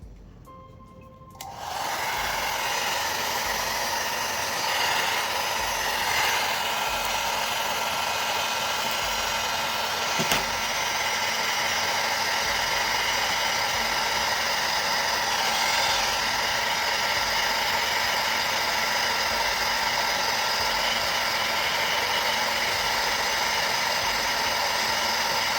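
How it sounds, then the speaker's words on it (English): A heat gun blows hot air onto the glass back of a Samsung S10 Plus phone, a steady close whirring hiss that starts after a second and a half of quiet and holds evenly to the end. "And heat gun."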